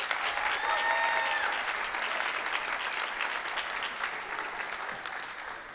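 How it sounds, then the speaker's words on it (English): Sustained audience applause fills a school senior honors night, a dense steady clatter of many hands that holds loud and even before slowly tapering, with a faint voice briefly audible underneath. "Let's give them all one more round of applause, please."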